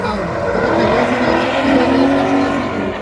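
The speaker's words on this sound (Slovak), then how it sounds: "tento 8-valcový BMW motor funguje perfektne" Race car with an 8-cylinder BMW engine at a hill-climb event, loud and close, a steady high engine roar with rising harmonic tones as it accelerates, with no speech.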